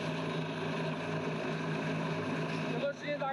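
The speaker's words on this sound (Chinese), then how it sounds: "直升机的发动机功率马上就提起来了" A military helicopter's engine spools up, a steady loud turbine drone with rotor hum filling the scene, staying constant before a brief dip near the end.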